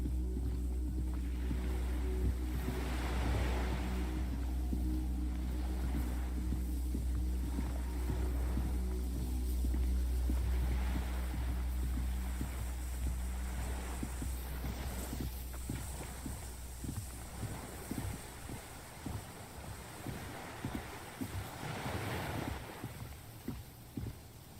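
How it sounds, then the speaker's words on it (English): Rushing water far below in Disco Elysium, a steady low wash with a soft broadband hiss that swells and recedes, heard alone with no voices. "Water rushes below, far down below."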